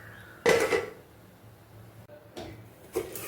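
A lid set down on a cooking pot of banana-flower kootu gives a sharp clatter, followed by softer knocks a couple of seconds later, close and alone in a quiet kitchen.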